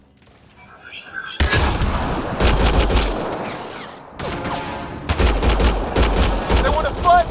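Heavy gunfire from the video game Mass Effect Andromeda: dense bursts of shots and booming blasts come in two loud waves with a short lull between, while voices speak over the battle.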